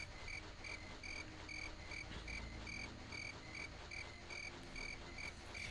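Crickets chirp in a video game's outdoor night scene, a steady, faint chorus of evenly spaced high trills, with a low ambient drone under it and no talk.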